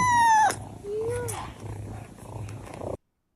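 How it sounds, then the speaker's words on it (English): Small kittens mew in thin, high cries, two quick calls close together near the start, with a soft, noisy background afterward before the sound cuts to silence. "Oh, those babies meowing."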